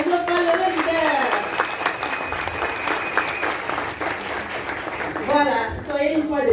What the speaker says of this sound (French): Est-ce que vous voulez encore applaudir à nos valeureux leaders?